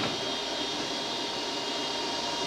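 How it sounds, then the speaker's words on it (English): Left jet engine of a Bombardier CRJ 700 spooling up during start, a steady broadband roar with a constant high whine running throughout, close and loud with no talk. "Start the left engine."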